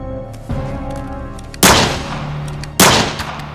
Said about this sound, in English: we'll never know if Tex and Chelsea survive getting shot in the face.